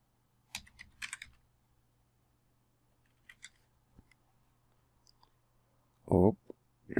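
Brief clusters of key clicks on a computer keyboard as a number is entered, a few quick taps early on and another short burst later, faint and close, with a louder thump near the end.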